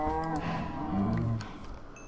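A cow in the Minecraft video game being struck and killed with a sword, giving a low, drawn-out harmonic moo-like groan of about two seconds, heard alone and fairly loud.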